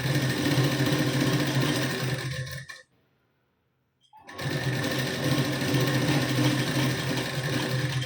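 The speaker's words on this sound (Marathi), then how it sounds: "आता शिलाई देऊन घेते बघा." A sewing machine runs loud and close, stitching a blouse sleeve at the join in a continuous buzzing whir. It stops for about a second and a half, then starts up again at the same steady pace.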